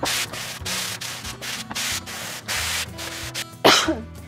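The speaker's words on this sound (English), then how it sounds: "give them a little clean, a little sand." Hand sanding of scrap plywood pieces: a rough, rhythmic rubbing in repeated strokes, steady and close, ending in a sharper burst.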